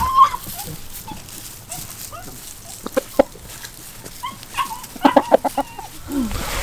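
Leghorn hens clucking in short bursts around a coop, with a few sharper squawks and soft background rustle; no talking.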